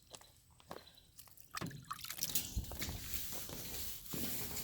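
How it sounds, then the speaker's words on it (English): Water is poured and splashed onto an outdoor surface before cloth cleanup, giving faint trickles and drips at first, then a louder, steadier slosh and spatter close by. "Let's get a little bit more water on here."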